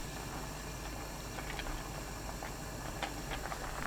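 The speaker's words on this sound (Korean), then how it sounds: "팔팔 끓으면 그때부터 1분 30초 더 끓입니다." A pot of water holding 150 g of soybean sprouts, salted shrimp brine and coarse salt boils uncovered on high heat, making a steady, soft bubbling hiss with faint scattered pops and no talking.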